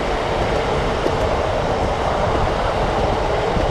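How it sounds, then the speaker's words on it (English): A train passes close by with a loud, steady rumble and rolling roar that holds for the whole stretch, with no talk over it. "There's the train."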